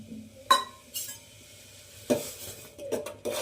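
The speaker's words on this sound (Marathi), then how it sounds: "तो आपण पाण्यामध्ये मिक्स करून घेऊ" Finger millet flour is stirred into boiling water in a pot, with scraping and clinking strokes of a utensil against the metal, separated by quieter pauses, close by and with no talk.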